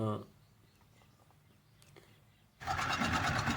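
A tractor working in a muddy village pond gives a brief engine note, goes quiet, then roars into a loud, rough rev as it strains to pull free of the mud.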